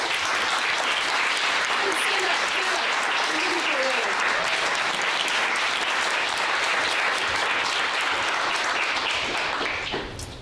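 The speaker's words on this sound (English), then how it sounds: "please join me in giving them a round of applause" An audience at an academic award ceremony applauds, a dense, sustained clatter of many hands clapping at steady loudness that fades at the very end.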